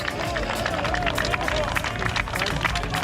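Roadside fans cheer at a Giro d'Italia time trial on the Conegliano–Valdobbiadene course, a steady dense wash of crowd noise, shouting and clapping close by throughout.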